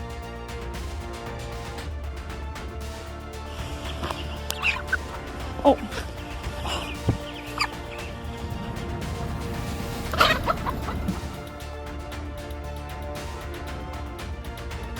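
Chickens cluck and squawk in short bursts over a steady low background rumble, with a brief voice exclamation.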